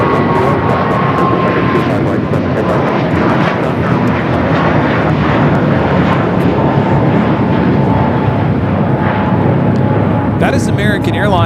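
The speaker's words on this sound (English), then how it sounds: "That is American Airlines 238 taking off the JFK on the A321." An American Airlines A321 takes off from LAX, its engines a loud, sustained roar that holds steady throughout, close and overwhelming.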